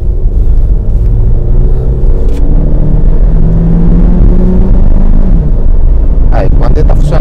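A Ford car with a PowerShift automatic transmission driving in ordinary conditions, its steady low engine and road rumble filling the cabin continuously, with someone talking over it throughout.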